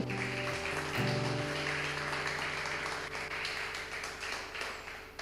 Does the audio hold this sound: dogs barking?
no